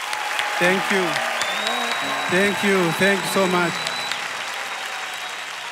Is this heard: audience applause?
yes